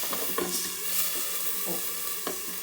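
Tomatoes cook in a covered pan with a steady, hissing sizzle, a few soft knocks and stirring sounds scattered through it, close and moderately quiet.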